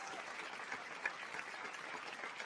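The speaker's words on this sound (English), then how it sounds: "Let's give him a well-deserved round of applause." Steady applause from a crowd, continuous and even throughout, with no voices over it.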